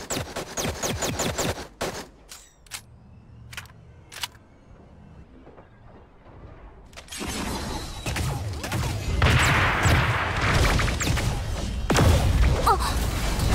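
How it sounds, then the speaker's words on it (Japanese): Gunfire in the mecha battle video game Super Mecha Champions: sharp isolated shots at first, a quieter lull, then dense rapid bursts and explosive thuds building loudly toward the end. "銃声よ、気を引き締めて。"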